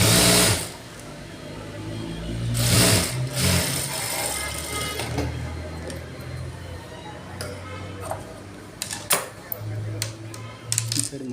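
A sewing machine stitches a lined blouse in short whirring runs that start and stop, with softer handling noises and a low hum between the bursts.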